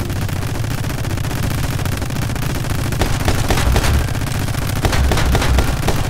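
Heavy gun blasting in My Friend Pedro, a dense, steady barrage of gunfire with booming low thuds, loud and continuous throughout, growing punchier toward the end.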